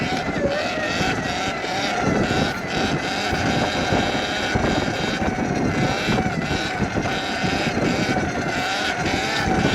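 A BMW M340i's exhaust roars in a dense, steady drone on a street, loud and close with rough wind buffeting across the microphone throughout.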